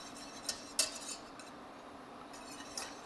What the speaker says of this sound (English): Help the liquid lecithin out a little bit, just kind of whisk it in.